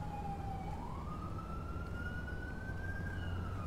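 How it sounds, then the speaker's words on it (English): Emergency vehicle siren from the GTA 5 police mod, with a fire truck and ambulance responding. A single steady wailing tone rises slowly in pitch over a low rumble of traffic and engine noise, with no talking. "they're sending us a fire truck and a ambulance"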